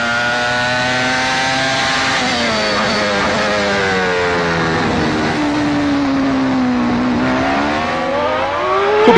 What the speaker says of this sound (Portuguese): dá para curtir, sentir a aceleração, as mudanças de marcha, a redução